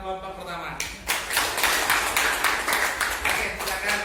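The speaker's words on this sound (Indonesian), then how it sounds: "ya beri tepuk tangan buat kelompok pertama" An audience of teachers claps for the first group at an academic coaching and supervision session, a close burst of clapping that starts suddenly after a voice speaks and continues steadily.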